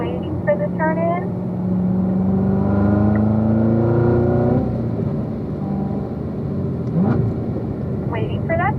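Race car on a track pulling out of turn five and accelerating down the straightaway, its engine note climbing steadily through the gears with a shift into fourth, loud and close, while a driver talks over it.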